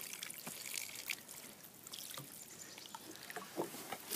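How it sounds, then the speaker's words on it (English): Water from a tap trickling and splashing over a hand-cut ice lens being rinsed, a soft, continuous, uneven flow with small spatters and drips, close and fairly quiet, no voices. "So I'm just gonna now rinse the heck out of it until we get rid of our cut lines."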